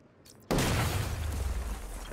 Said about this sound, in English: Well, let's use my explosive gel.